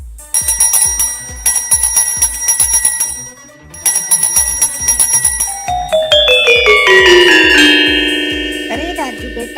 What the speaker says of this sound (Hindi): ये एक जादुई घंटी है